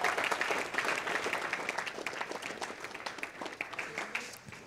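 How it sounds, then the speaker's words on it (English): Audience applause at a live speedrun marathon event, a dense, steady wash of many hands clapping that holds for several seconds and tapers slightly toward the end. "Let's have one more round of applause,"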